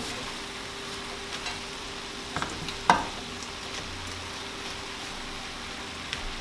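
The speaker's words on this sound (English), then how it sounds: "I'm also going to add these carrots in, my green beans, and then mix this all up as the best I can." Carrots and green beans are stirred in a hot pan, giving a steady, even sizzle with a few soft scraping clicks of the utensil scattered through it.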